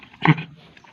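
A single short, low growl from a dog being fed up close, a brief gruff sound that fades quickly into quiet background.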